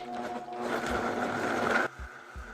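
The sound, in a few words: blender blending boiled ingredients with chili water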